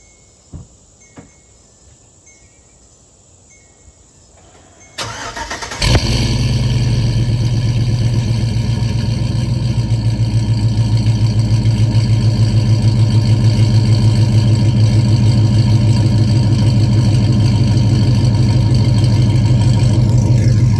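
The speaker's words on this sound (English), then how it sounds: "Got that nice sport truck sound that I like" A 2006 Chevy Tahoe with an MBRP 3-inch cat-back exhaust starts after a few seconds of near silence, then settles into a steady, deep, throaty idle that holds loud and even to the end.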